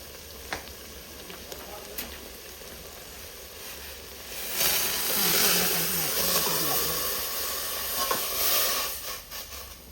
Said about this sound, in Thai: เดี๋ยวจะเติมน้ำแล้วก็เคี่ยวหมูให้นุ่มกันนะพี่น้องเนาะ